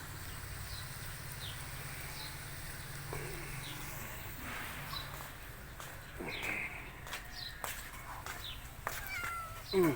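A cat meows repeatedly, short high calls spaced every second or so, over a low background hum with faint shuffling and knocks.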